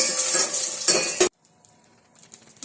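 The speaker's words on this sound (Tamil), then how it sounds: "இது கூட காஞ்ச மிளகா சேர்த்துக்கோங்க நல்லா ஃப்ரை பண்ணி விடுங்க" Dried red chillies and cumin stir-fried in hot oil: a loud, close sizzle with clinking spoon strokes for just over a second, then it cuts off abruptly to near silence with faint rustles.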